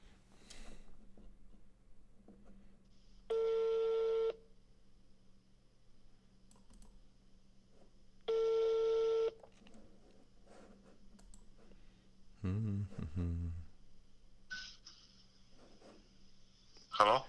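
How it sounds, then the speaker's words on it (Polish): Phone ringback tones sound while a call is being placed, two long steady beeps several seconds apart, clear and close, with faint keyboard clicks and a brief voice near the end. "wysłałeś mi numer, dzwonię."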